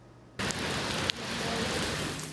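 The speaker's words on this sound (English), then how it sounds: "Others are busy avoiding the rain." Steady rain pours down during cold winter weather, a dense even hiss that starts abruptly and continues without pause, with one brief sharp tap partway through.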